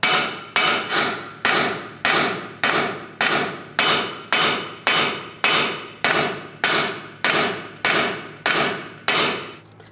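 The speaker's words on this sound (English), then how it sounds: "You can use a hammer, just give it a tap." A hammer strikes a steel suspension knuckle on a 1998-2010 Volkswagen Beetle again and again in a steady rhythm, about sixteen sharp ringing blows, each decaying before the next, close and loud.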